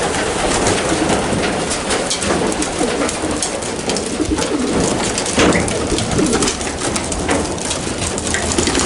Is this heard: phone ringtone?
no